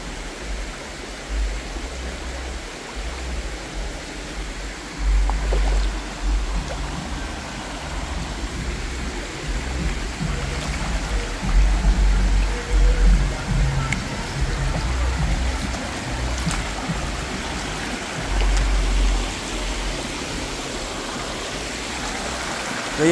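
Village river water flows steadily in Jamaica, a continuous broadband rush with low rumbling surges, close and fairly loud, with faint voices now and then in the background.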